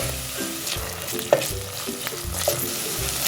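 Tomato paste frying with onions in a pot for Turkish noodle soup, a steady sizzle broken by sharp scraping stir strokes and occasional pops, close and fairly quiet with no talk.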